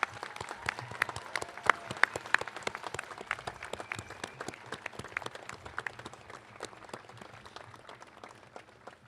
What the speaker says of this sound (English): Please join me in giving a round of applause for our newly commissioned ensigns.